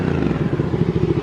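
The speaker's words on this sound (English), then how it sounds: "Apologies for the motorbike noises." A motorbike passes close by with a loud, rapid pulsing engine chatter that stays strong throughout the brief moment.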